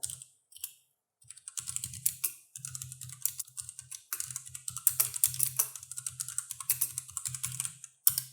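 Code being typed on a computer keyboard, with dense, steady clicking keystrokes in bursts and short pauses, close and clear, with no talking.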